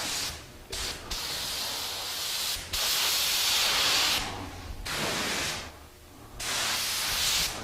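A spray gun applying a light coat of wood dye to a cherry table, bursts of steady loud hissing spray separated by short pauses.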